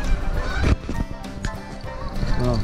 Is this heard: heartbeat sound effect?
no